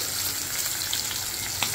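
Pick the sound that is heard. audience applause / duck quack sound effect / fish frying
fish frying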